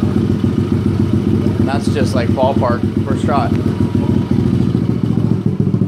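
A 2009 Kawasaki KLX 140L dirt bike engine idles without choke, a rapid, throaty putter from a loud Big Gun full aftermarket exhaust, steady throughout, while someone talks briefly over it.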